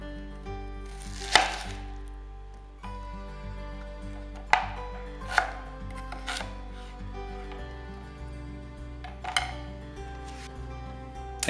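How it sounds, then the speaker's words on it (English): A knife chops an onion on a cutting board: a handful of separate sharp thunks, spaced irregularly over quiet room background, close by. "I chop the onion with a knife on the cutting board."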